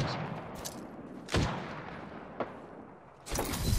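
Gunfire in Apex Legends: a few sharp, separate bursts of shots spaced over a few seconds, fairly near, with a quieter single crack between them and little talk over it.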